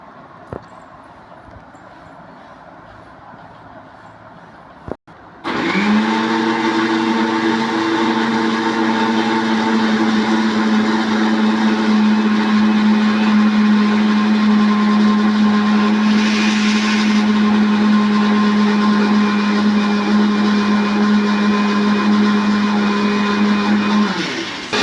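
A mixer grinder whirs loudly in a steady, unbroken drone as it grinds ginger and garlic into a paste in its jar, starting abruptly after a short quiet moment and running on at full power.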